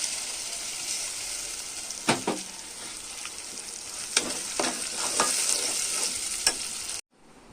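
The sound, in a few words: stir-frying roasted spice masala in a pan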